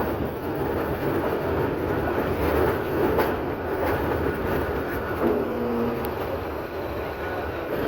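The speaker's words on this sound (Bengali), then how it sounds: "কর্ণফুলী কমিউটার ট্রেনটি বাগাছান রেল স্টেশন চলে যাচ্ছে" The Karnaphuli commuter train pulls out of Bagachan railway station with a continuous loud rumble of rolling wagons, faint clickety-clack and occasional wheel squeal, close by and without voices.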